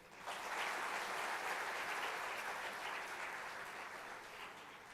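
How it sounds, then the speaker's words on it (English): Sustained applause filling a university auditorium at an achievers' day ceremony, a broad wash of clapping that swells quickly and tapers slightly, heard from a distance. "Did I hear a louder round of applause?"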